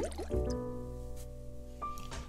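A bubbling water sound effect triggered by a Twitch chatbot command starts with a gurgling burst, then settles into sustained watery, bloopy tones that fade out before a second brief bubbly pop near the end.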